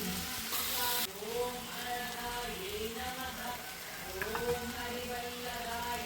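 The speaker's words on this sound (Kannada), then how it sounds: "ಫ್ರೈ ಆಗುತ್ತೆ." Food frying in a pan on a home stove, a steady sizzling hiss with faint tonal sounds threaded through it, close and even throughout.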